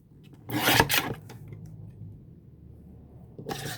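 Scissors cut through a paper card for a handmade craft, making two short, close rasping snips, a pause, then another cutting stroke at the end.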